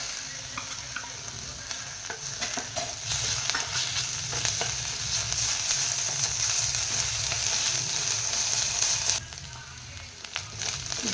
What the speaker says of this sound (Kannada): 1/2 ಟೇಬಲ್ ಸ್ಪೂನಷ್ಟು ಜಿಂಜರ್ ಗಾರ್ಲಿಕ್ ಪೇಸ್ಟ್ ಸೇರಿಸ್ತಾ ಇದ್ದೀನಿ.